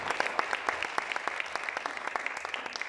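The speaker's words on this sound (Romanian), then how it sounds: "Încă o dată, haideți să-i aplaudăm pentru această inițiativă." Audience applause at a charity concert in a Romanian culture house, a steady wash of many hands clapping with sharp individual claps standing out, moderately distant and continuous for the whole stretch.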